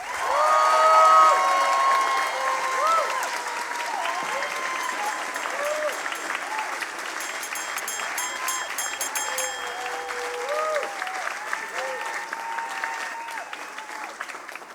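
Audience applauding at a Science Slam, sustained loud clapping from a large crowd with scattered cheers and whoops layered on top, lasting the whole stretch.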